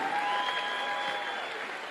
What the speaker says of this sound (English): Get the old man a round of applause.